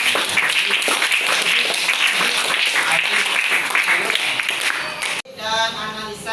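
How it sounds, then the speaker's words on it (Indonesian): Audience applause fills a classroom or presentation hall, a dense, steady wash of clapping that runs for about five seconds and then cuts off abruptly. "Kita beri aplaus ini."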